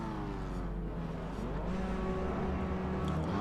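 Steady roar of several BMW M2 race car engines idling and revving together in the iRacing sim at Daytona, a dense continuous mechanical drone with no voices.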